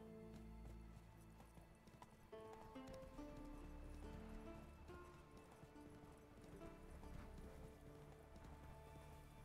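Roach, a horse in The Witcher 3, gallops with steady rhythmic hoofbeats under a bed of game music and ambience, fairly close and continuous throughout.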